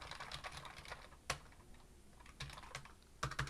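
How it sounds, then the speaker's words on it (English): Fast bursts of computer keyboard typing during a live coding stream, with clustered clicky keystrokes and a few sharper key hits; steady close-up tapping with no speech. "I'm still typing."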